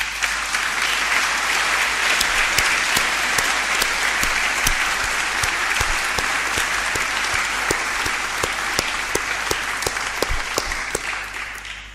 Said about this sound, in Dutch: Ze verdienen een daverend applaus.